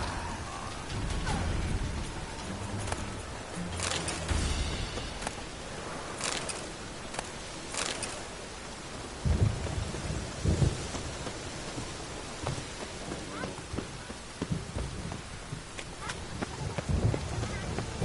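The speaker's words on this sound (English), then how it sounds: "A storm, damn it." Thunderstorm with steady heavy rain in the video game Witcher 3, a continuous wash of downpour broken by several deep rumbling thunder rolls, with faint speech in places.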